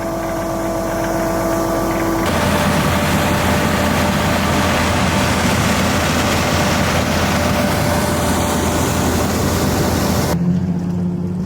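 A tractor engine runs steadily while driving a liquid manure pump dropped into a pit. A loud, continuous mechanical drone holds throughout with a brief change in tone near the start and end.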